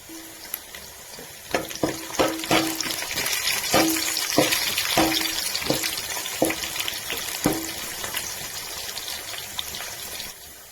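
Green chillies sizzle in hot oil in a pan for chicken biryani, a steady hiss broken by a run of sharp spoon-on-pan clicks, close and fairly loud, with no one talking.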